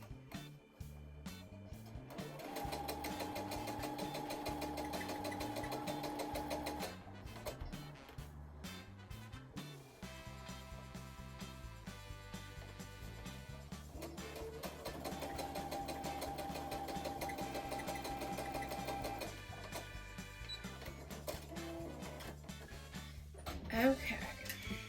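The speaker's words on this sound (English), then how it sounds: "I'm just going to sew a 1/4 inch seam." A home sewing machine hums in long, even runs while stitching a 1/4 inch seam on two fabric strips for a placemat, quiet and close, with brief stops and soft handling noises between passes.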